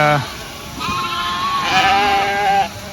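Sheep bleat while grazing fenced-off old CRP ground overgrown with weeds and brush: a short call, then two long, wavering bleats in succession, close and clear over a quiet field.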